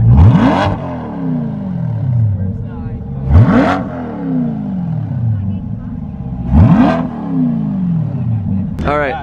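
A car at a car show revs its engine with a stock exhaust in three strong, separate bursts, each rising sharply and then falling back, loud and close, with people talking between the revs.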